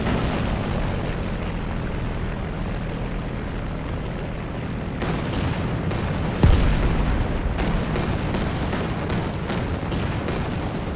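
Panzer IV F2 tank combat in the video game War Thunder, with a steady engine rumble underneath and one sharp, loud cannon shot partway through followed by a brief rolling echo.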